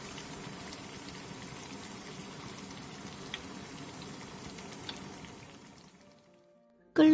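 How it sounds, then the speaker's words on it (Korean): Udon noodles simmer in a pot of boiling water, giving a steady bubbling, rain-like hiss that runs evenly for several seconds before fading out, with a brief clink at the very end. "끓는 물에 우동면을 넣고 면이 풀릴 때까지만 삶아주세요."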